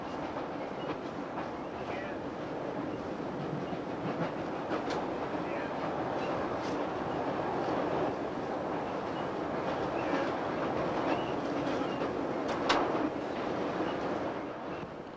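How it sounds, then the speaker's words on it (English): An A3 steam locomotive hauling a passenger train rumbles steadily past near Darlington with a continuous roar and occasional sharp clanks, heard from a moderate distance with no voices. "Storming towards us is A3 60090 Grant Parade on a Newcastle-Bristol train"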